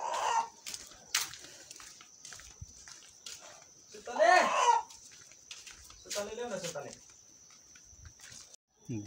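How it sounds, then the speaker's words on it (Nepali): A large rooster being carried through a Nepali village clucks and squawks in short, irregular bursts, with one louder flurry midway, while people talk nearby. "भाले लाँदैछु मैले।"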